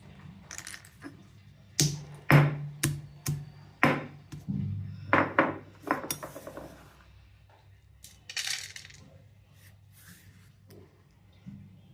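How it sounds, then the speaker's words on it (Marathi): Garlic cloves crushed coarsely for khara pongal, a series of sharp pounding knocks in quick bursts, fairly close and loud, with a brief lighter rattle afterward. "आता लसूण आणि पहिल्यांदा जरासं हे मोठं मोठं चेचून घेते"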